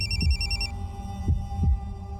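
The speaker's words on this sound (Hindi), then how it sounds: "ये फोन किसका बज रहा है?" A telephone rings with a high electronic trill for under a second, then stops, leaving low dull thuds and a steady hum.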